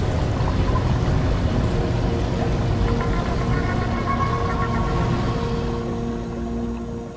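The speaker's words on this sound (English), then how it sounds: "I'm getting filled up with water" Water pouring and flooding into an enclosed chamber in SOMA: a steady, heavy rushing roar that continues throughout with a low rumbling undertone, easing slightly toward the end.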